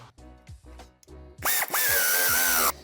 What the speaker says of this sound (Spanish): Apretaremos ambos tornillos